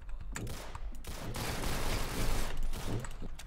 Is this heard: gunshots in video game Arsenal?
yes